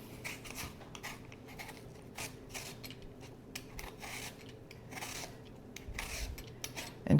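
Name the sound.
peeling apples with a knife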